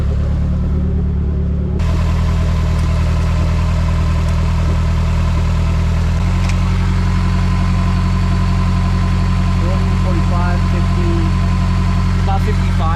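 A turbocharged Honda Element engine idling with a loud, steady low rumble and a constant hum that shifts slightly in pitch partway through.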